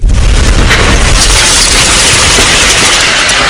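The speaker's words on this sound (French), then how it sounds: "Puis ces hommes se retirent rapidement pour assister à l'explosion à distance." A remote-detonated blast goes off beneath a hotel, a huge, very loud boom that bursts in at once and then continues as a dense, roaring rumble of debris and noise for several seconds.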